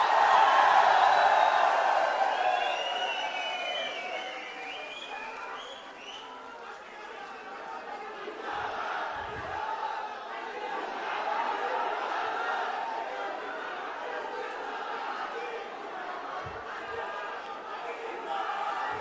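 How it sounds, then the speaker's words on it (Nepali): A large crowd at the launch of Rabi Lamichhane's Rastriya Swatantra Party roars with cheers, whistles and shouts, loudest at first, then easing into a sustained rumble of crowd noise. "जोरदार तालीले स्वागत गरिदिनु होला"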